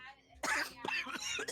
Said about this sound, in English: that's why he's coughing a lot